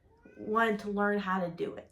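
A cat meows more than once, drawn-out tonal cries close by, overlapping with a person talking.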